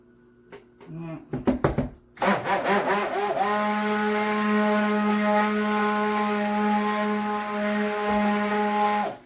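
Immersion stick blender whirring steadily as it mixes lavender and chamomile goat milk cold process soap batter, a close, continuous motor hum starting after a few brief bursts and holding level to the end.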